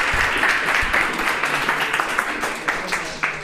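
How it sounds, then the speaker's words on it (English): Audience applause at a FOSS community meetup in Kochi, a dense, moderately loud round of clapping with a few sharper individual claps standing out near the end and faint talk underneath. "a huge round of applause for that."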